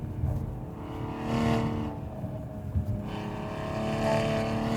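A 2020 Toyota Supra engine drones loudly and continuously under hard acceleration, its pitch rising in waves as the car pulls through the gears, heard from close by with no talk.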